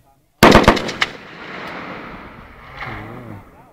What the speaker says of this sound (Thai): เริ่มยิง